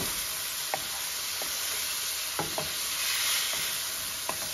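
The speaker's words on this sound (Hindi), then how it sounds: "ये अपने जो बैगन थे हमने काटे थे छोटे पीसेस, ये डाल देंगे, और इनको भी इसमें अच्छे से मिक्स करेंगे" Small chopped brinjal pieces stirred into frying potatoes and mixed vegetables: a steady, close sizzle runs throughout, punctuated by scattered spoon scrapes and taps against the pan.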